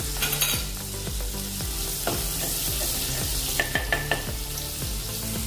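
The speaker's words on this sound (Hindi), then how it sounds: "एक चम्मच हमने बटर डाल दिया है। अभी ये मेल्ट हो गया है।" Melted butter sizzles and crackles steadily in a hot frying pan, with a few scraping stirs and light utensil clicks, close and continuous with no talking.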